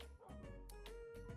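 A dog in Minecraft yips and barks a few times in short bursts over a steady electronic background hum.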